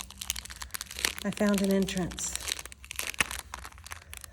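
A decorated paper envelope crinkles and tears as it is opened, with someone talking over and around the rustling up close.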